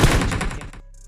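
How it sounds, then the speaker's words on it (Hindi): Rapid gunfire from the mobile battle royale game Battlegrounds Mobile India, a dense burst of loud shots lasting under a second, then cutting off to a quiet game hum. "पास से जाते हुए हमें गन के साउंड है।"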